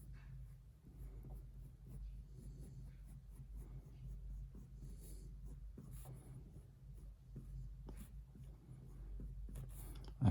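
A pen sketches sine and cosine curves on paper, giving soft, intermittent scratchy strokes close up over a low background hum.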